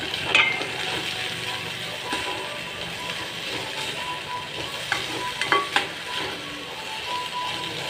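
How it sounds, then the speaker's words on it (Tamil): Grated coconut and fennel seeds sauté in oil for an oyster mushroom gravy, a continuous soft frying hiss with occasional spatula scrapes and light clicks against the pan, steady and close. "சோம்பு கசாலாம் போட்டுக்கோங்க தேங்காய் லைட்டாக திருவி அதையும் போட்டு நல்லா வதக்கிக்கோங்க"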